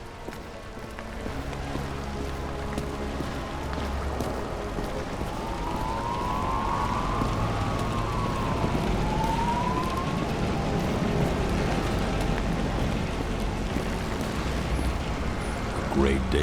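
In the video game Nobody Wants to Die, a police car siren wails in rising and falling sweeps partway through, faint beneath a dense, constant rumble of background noise.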